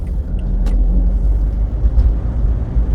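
A Citroen Berlingo car creeps along at very low speed in second gear, giving a steady, close, loud low rumble of engine and road noise throughout, with no voices.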